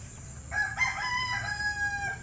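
A feather-footed rooster crows once in a long, drawn-out call, close and fairly loud, over a low steady background rumble.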